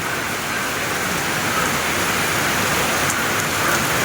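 Heavy rain pours down steadily outside a home, a loud, dense, unbroken roar of drops drumming on surfaces, holding at an even strength throughout with no talking.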